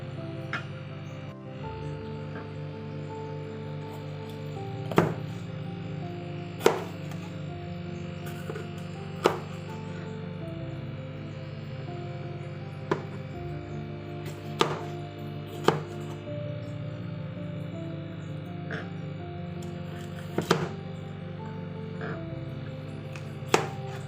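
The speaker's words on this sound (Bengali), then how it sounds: "এবার ক্যাপসিকামটাকে সুন্দরভাবে কেটে নেব কিউব করে করে।" A knife chops capsicum into small cubes on a board, sharp irregular taps spaced a few seconds apart over a low steady background hum, no talking.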